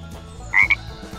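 A frog croaks in two quick, loud bursts close up, the second shorter than the first, set among farm animal sounds with no talking.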